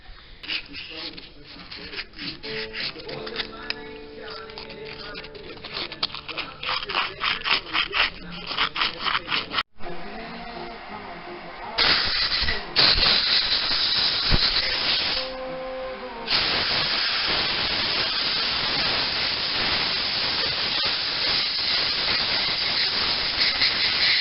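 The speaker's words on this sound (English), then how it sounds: "taking sandpaper and sanding down all the burrs" Sandpaper rubbed by hand over piston rings to remove burrs during a 5.3 Vortec engine rebuild, producing rhythmic scratchy rasps, then a longer steady hiss of sanding, with someone talking at times between strokes.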